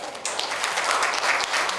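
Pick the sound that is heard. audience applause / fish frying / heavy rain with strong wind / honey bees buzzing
audience applause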